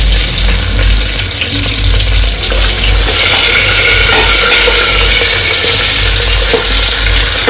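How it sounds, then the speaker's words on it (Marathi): Chopped onion sizzles loudly and steadily in a pan as it begins to catch and burn, with the hiss of frying continuous across the whole stretch and occasional stirring noises beneath it. "कांदा थोडासा आता हलवून घेऊ मित्रांनो"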